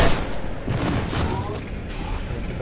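Dense bursts of gunfire and booms come from the first-person shooter game FEAR 2. The shots are rapid and overlapping and keep going throughout the whole stretch.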